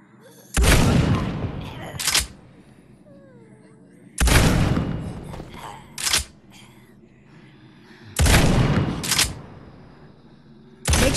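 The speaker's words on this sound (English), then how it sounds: "Lever action guns need to be cycled each shot." Lever action gunshots in the VR game The Walking Dead Onslaught: three loud, booming shots spaced about four seconds apart, each followed by a short metallic clack of the lever being cycled, with quiet gaps between.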